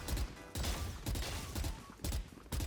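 Gunfire in Valorant during strafing aim practice: about six sharp, close shots in quick bursts with short gaps between them, loud and punchy.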